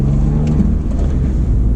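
A Mercedes Smart ForTwo cabriolet's small engine hums steadily while driving, a close, loud, low drone with road rumble and no speech.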